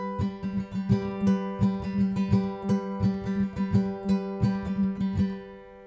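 Acoustic guitar fingerpicking the second pattern of a song accompaniment, opening with a pinch of the 5th and 2nd strings together; steady plucked notes ring over a sustained low drone, played alone at moderate volume.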